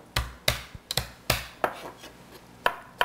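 A knife roughly chops garlic cloves on a cutting board, with about nine sharp, uneven thuds close by, some quick in pairs and others spaced apart, without any talking.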